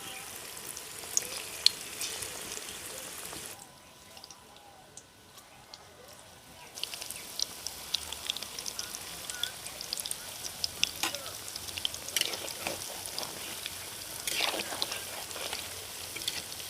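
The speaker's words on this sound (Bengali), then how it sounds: "তেল গরম হয়ে গেছে, এবার আমি পকোড়াগুলো হাতে তুলে একে একে দিয়ে দেবো।" Pakoras, battered fritters, dropped one by one into hot oil and frying: a continuous bright sizzle with crackling pops, briefly quieting before surging back stronger as more pieces go in, close up with no talking.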